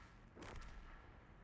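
A single artillery shot fires in World of Tanks from a Swedish tier-11 self-propelled gun, a short muffled boom with a brief whooshing crack, faint and distant over low background hum.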